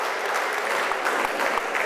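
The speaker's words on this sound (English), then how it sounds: "A big round of applause to our officials for putting up with what you saw out there." A futsal crowd at a League Cup final applauds the officials, a dense, even wash of clapping with a few sharper claps near the end.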